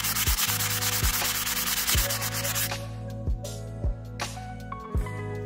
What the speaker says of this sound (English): just use like a sanding block or whatever